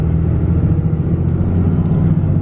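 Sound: 6.7L Cummins truck driving in gear with dual disk clutch

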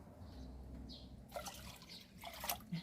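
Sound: clean water poured into green fertilizer mix

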